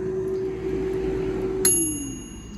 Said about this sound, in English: there's our magic bell. So I bet that's an indication that our broccoli is ready